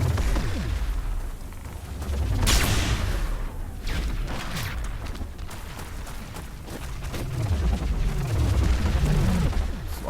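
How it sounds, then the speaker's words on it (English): Rocket launches and explosions in the ShootMania first-person arena shooter fire in rapid, overlapping bursts during a competitive match, loud and dense with booming impacts, continuing steadily throughout beneath a busy game soundscape. "Dodging all these rockets"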